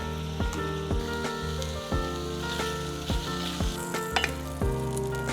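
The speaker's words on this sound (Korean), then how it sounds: "야채 구울게요. 이렇게 올리브유를 소금 안 하고 후추만 할게요." Vegetables roast in olive oil with pepper, giving a continuous soft sizzle under a louder musical track of repeated, regularly spaced tones.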